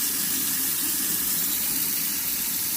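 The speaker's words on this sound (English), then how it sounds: "turn this water on until I have water that's about 90 degrees, 92" Tap water pours steadily into a sink while being warmed to about 90 degrees for mixing incubation media for python eggs, a continuous even hiss with no pauses and no voices.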